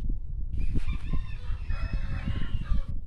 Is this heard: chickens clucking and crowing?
yes